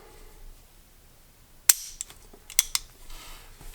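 The trigger assembly of a CVA Optima rifle is function tested, producing a sharp metallic snap of the firing pin followed by a few lighter clicks, close and clear in a quiet room.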